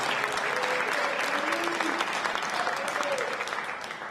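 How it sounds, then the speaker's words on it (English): Steady applause from an audience of workers at a medical equipment distribution center, a continuous patter of clapping at moderate distance that tapers slightly at the end. "They said, we don't care. We're clapping for Dennis"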